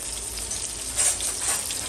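Okra sizzling in hot oil with asafoetida and curry leaves for a Gujarati desi-style bhindi kadhi, a steady close crackling fry with a brief louder burst midway, no talk.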